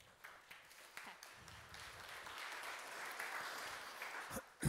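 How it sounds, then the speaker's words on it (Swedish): Audience applause at a Swedish cultural policy conference, a steady wash of clapping from a seated crowd that swells slightly toward the end, with no voices over it. "En applåd."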